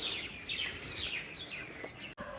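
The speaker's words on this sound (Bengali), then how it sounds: "পাখি ডাকে" Birds chirp repeatedly inside an old zamindar house in Biruliya, Savar, a rapid run of high, bright calls at moderate distance over quiet room tone, ending in a brief cut.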